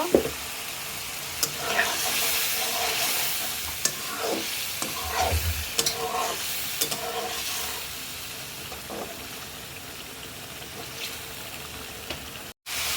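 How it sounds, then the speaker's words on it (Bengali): Hilsa fish sizzles and fries in a pan while being stirred, with a steady hiss and repeated close scraping strokes of a spatula, gradually quieting toward the end. "এই যে মাছ আমি ঢেলে দিচ্ছি। ঢেলে মাছ কষাই নেব।"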